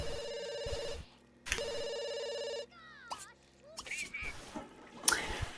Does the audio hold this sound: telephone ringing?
yes